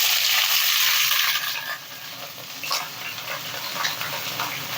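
Eggplant pieces frying in hot oil, a loud close sizzle that fades into a steady crackling fry with small pops.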